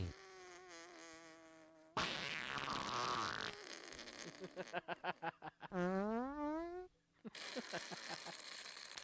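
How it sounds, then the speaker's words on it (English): Buzzy, fart-like blasts with pulsing and rising tones, heard during a live sports-cast broadcast. They come in several separate bursts, some loud and rough, others stuttering, with quieter gaps between them. "I don't care how old you are, farts are funny."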